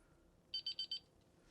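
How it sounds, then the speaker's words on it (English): A lab timer alarm sounds during Gram staining of activated sludge, four quick, loud electronic beeps in a tight even burst over a quiet room hum. "My timer is just about up."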